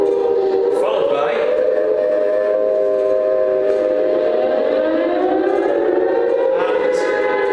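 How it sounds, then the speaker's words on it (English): Air raid siren sound effect layered over a crowd ambience, a loud sustained wailing tone that rises and falls continuously, with faint background voices and no speech. "the sound of an air raid siren"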